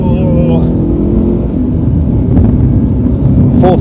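A Mitsubishi Evo III engine pulls hard under load in fourth gear, a loud continuous roar with road and wind noise, and no talking.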